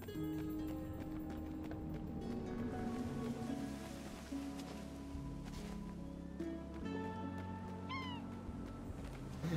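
A cat meows in the video game Absolver, a short rising cry standing out near the end over a steady bed of game sounds, hoofbeat-like clopping and music.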